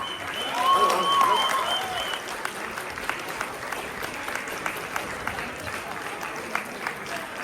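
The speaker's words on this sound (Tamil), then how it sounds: "உங்களோட ஆரவாரமான கைத்தட்டல் அவர்களுக்கு அடுத்த படிக்கான உந்துதலா இருக்கணும்." An audience applauds children at a book review awards event, a burst of clapping with a few high-pitched cries that settles into steady, scattered claps in an indoor hall.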